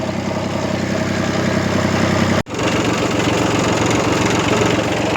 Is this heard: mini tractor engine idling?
yes